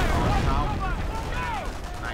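Machine-gun fire crackles in the World War II strategy game Company of Heroes, rapid bursts over rumbling battle noise and whistling shells, with someone talking over the gameplay.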